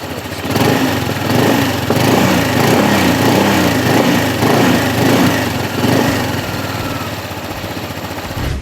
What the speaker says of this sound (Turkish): piu, piu falan sesler falan çıkarmıyor motor. Direkt marş alıp çalışıyor.